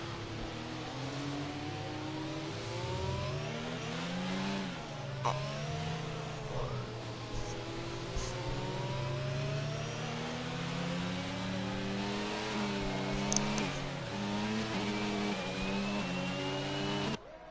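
F1 race car engines drone and whine in a racing video game, with several cars running close together behind a safety car and pitch rising and falling steadily throughout.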